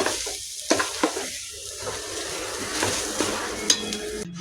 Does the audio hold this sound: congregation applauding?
no